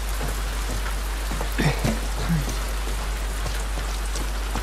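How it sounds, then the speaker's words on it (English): Heavy rain in the video game The Last of Us Part II, a dense, constant hiss of downpour on surfaces that holds at the same loud level throughout, with a few faint vocal sounds briefly mixed in. "Oh, it's raining heavy, bro."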